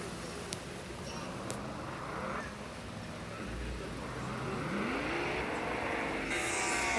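Race cars in a Roblox game whir and rev steadily throughout, with engine tones sweeping up and down as they pass, and the sound grows slightly louder toward the end.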